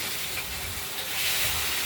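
A rohu fish head frying in hot oil, a dense continuous hiss and sizzle filling the whole short stretch at close range, with no voices.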